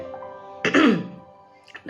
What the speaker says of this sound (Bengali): ঠান্ডা লেগেছে এত কাশি করেছে